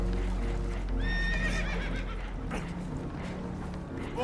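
Horses whinny in Red Dead Redemption 2 aboard a boat that is taking on water: a loud, shrill neigh near the middle, with hoof clatter and a low steady rumble beneath.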